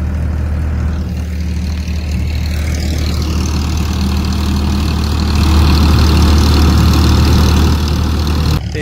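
A straw reaper machine runs steadily with a continuous heavy engine drone and mechanical hum that grows slightly louder toward the end, close by and without talk.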